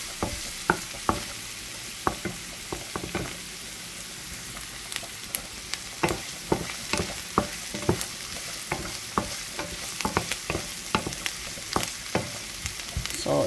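Sliced mushrooms frying in a pan for carbonara, a steady close sizzle broken by frequent sharp clicks and scrapes of a utensil stirring against the pan, no voices.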